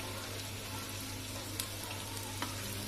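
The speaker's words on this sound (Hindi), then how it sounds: "ये देखिए इसे गोल्डन फ्राई करना है हमें। अब इसे हम फ्लिप कर देते हैं।" Chicken doughnuts fry in hot oil with a steady, close sizzle throughout, broken by a couple of brief sharp clicks as they are turned over.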